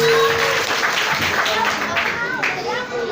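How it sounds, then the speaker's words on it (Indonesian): Applause from a crowd at a mosque gathering marking 1 Muharram, a loud, busy clatter of clapping that carries on throughout with voices talking over it. "Kasih tepuk tangan lah Bu."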